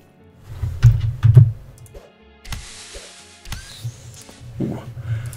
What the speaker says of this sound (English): There's a nice thud that starts to develop as far as the sound effect when hitting people.